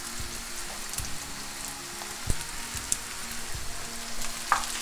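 Turmeric, chili and coriander powders frying in oil in a pan for Kerala-style botti varattiyathu, a soft steady sizzle with occasional crackles and a few light taps, close and unaccompanied by speech.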